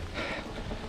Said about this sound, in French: La pluie vient de s'inviter, là.